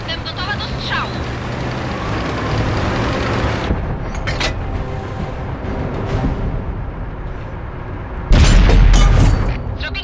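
One loud, deep tank cannon blast booms near the end over a steady rumble of engines and background game noise in World of Tanks.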